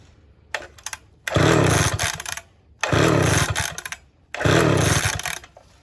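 A flooded vintage Homelite 360 chainsaw engine roars in three loud, close bursts of about a second and a half each, separated by quiet gaps, after a couple of short sputtering attempts.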